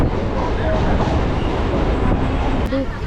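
A suburban local train out of Barasat rumbles along between stations, a dense, steady roar of wheels and carriage noise heard from inside, loud and continuous throughout.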